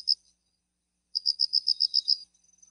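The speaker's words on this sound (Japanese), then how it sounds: "今度は虫の音ですね。" A cricket-like insect, recorded as a nature sound, chirps alone in high-pitched pulses: one short chirp, then a quick rhythmic run of about seven chirps, then fainter ticks in near silence.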